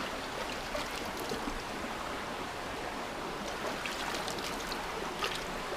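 A cold, clear river near Tacloban flows steadily, a soft continuous rushing and trickling wash of water, moderately close, with no voices.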